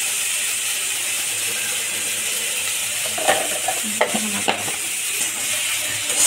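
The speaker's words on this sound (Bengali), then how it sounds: "এই আলুটা ভাজা হইতেছে," Potatoes fry with cumin in a pan for a homemade singara filling, giving a steady, close sizzle, while a short burst of metallic clattering from stirring comes near the middle; nobody speaks.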